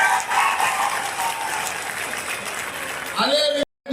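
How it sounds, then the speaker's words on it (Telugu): A crowd at a political rally with the Telangana Chief Minister claps loudly and continuously, then the applause fades into a voice speaking before an abrupt cut. "కార్యకర్తలు అందరూ కూడా చప్పట్లతోని కేసీఆర్ గుండెలు బాగుంటారు"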